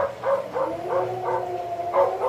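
Recorded dog barks play as a sound effect on an O gauge model railroad layout, several quick, moderately loud barks in an uneven rhythm with a faint hum underneath.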